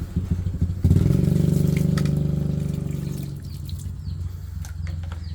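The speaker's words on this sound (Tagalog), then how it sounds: "diligan muna natin yung talong no" Water gushes onto a potted eggplant, starting abruptly as a loud splashing pour that gradually eases to a softer trickle.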